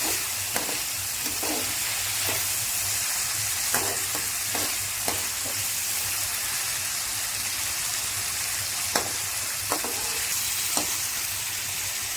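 Continuous hissing sizzle of food frying in a pan while cooking Rayalaseema-style uggani, with occasional clicks and scrapes of stirring, close up and steady.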